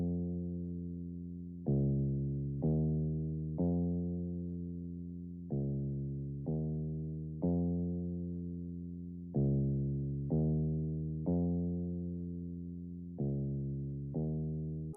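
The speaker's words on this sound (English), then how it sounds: "I used this Angel bass, and I just laid down this pretty simple bass line which just follows the root notes from the guitar" A simple sampled bass line from an Angel bass kit follows guitar root notes, with deep plucked notes repeating in a steady pattern, each decaying before the next, alone and fairly soft.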